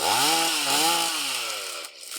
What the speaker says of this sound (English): In Livingston, Thursday morning brought with it the sound of chainsaws.